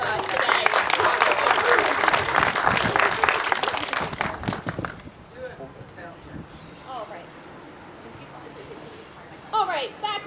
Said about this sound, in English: let's give a huge round of applause for Linda Brown for the incredible music starting off today